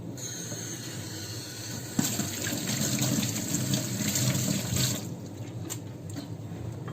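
Kitchen tap running for washing up while baking, a steady close rush of water that gets louder partway through and then cuts off near the end.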